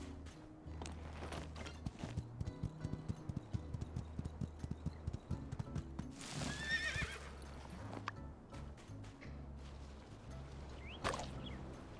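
Horse hooves clip-clop in a steady walking rhythm in the video game My Time at Sandrock, with a horse neighing and whinnying twice over the trotting beat.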